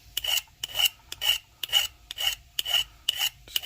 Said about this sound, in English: We're just filing this tip.